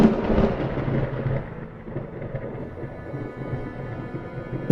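A thunderstorm sound effect in which a loud crack of thunder opens into a long, rumbling roll that slowly fades under steady rain, with a fresh burst at the very end.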